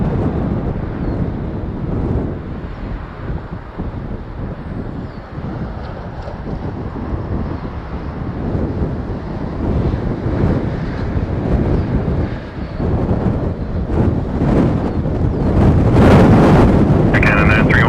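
An Air Canada Boeing 777 lands at Toronto on runway 24L in a strong crosswind with windshear, heard as a loud continuous roar of engine and wind buffeting that swells toward the end.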